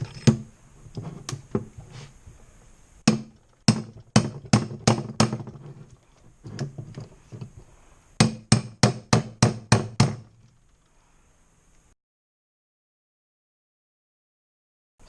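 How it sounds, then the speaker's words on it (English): A slide bolt is used to hammer spacers out of a Yamaha Virago motorcycle swingarm, sharp metallic blows in quick bursts of several strikes with pauses between, ringing close and loud, then silence. "we're going to try to just hammer them out"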